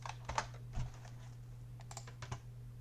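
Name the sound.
typing on a computer keyboard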